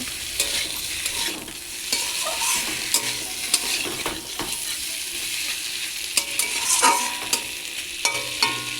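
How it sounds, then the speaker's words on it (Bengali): Chicken slowly stir-fried with pre-fried potatoes in a pan, a steady close sizzle with frequent scraping and clinking spatula strokes against the metal pan, no talking. "মাংসটা কষানো হয়ে গেলে তারপরে আগে থেকে ভেজে রাখা আলুগুলো দিয়ে দিলাম আবার ধীরে ধীরে কষিয়ে নেব"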